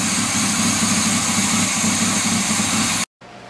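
A 1987 fire truck engine with tubular exhaust idles steadily and loudly up close, a dense, even rumble that runs without a break, cuts out briefly near the end, then returns more quietly.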